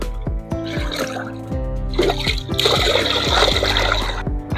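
Homemade organic fertilizer is stirred into water in a small vessel, giving continuous close sloshing, splashing and trickling.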